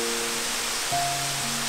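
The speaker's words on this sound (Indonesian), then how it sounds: "Jadi ini air terjun Banyu Banyuwana Amerta." Banyu Wana Amerta waterfall in Bali, a steady broadband rush of falling water heard at moderate level throughout, with faint tonal hums over the continuous wash.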